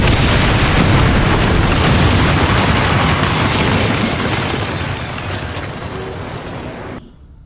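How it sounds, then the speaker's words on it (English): A detonating charge goes off in the video game XCOM 2. A loud, deep, rumbling boom starts at once and rolls on for several seconds, fading gradually before cutting out. "Detonating charge."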